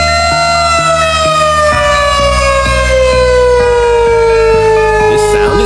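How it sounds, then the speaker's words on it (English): A tornado warning siren wails loudly and steadily with a slowly falling pitch, accompanied by a low rumbling drone and rhythmic mechanical pulses underneath. "First is Tornado Siren."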